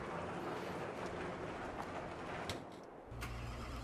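Truck engine in Farming Simulator 22: a steady background hum gives way to a brief click, then the engine fires up into a deep, low rumbling idle near the end.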